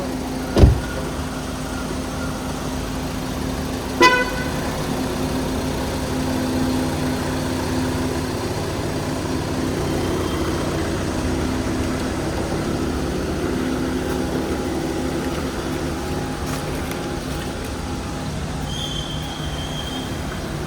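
A car is driven off toward a garage, giving a steady engine and road rumble for about twenty seconds, with a couple of sharp clicks near the start and no talk.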